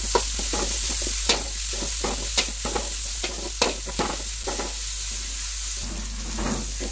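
Mangalore-style chicken sukka, a large batch, frying in a pan while being stirred, with a constant close sizzle and regular scraping, clanking stir strokes, no talking.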